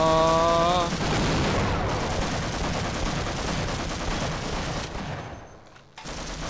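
Heavy, dense gunfire in Half-Life: Source, loud and continuous with booming impacts, tapering off near the end after a brief electronic tone at the start.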